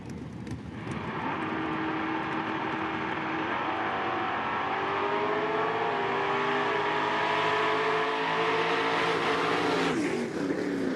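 A 1979 Chevrolet second-gen Camaro drag racing at Mid-State Dragway, engine roaring as it launches and climbs through rising gear pitches, loud and sustained down the track before cutting off near the end.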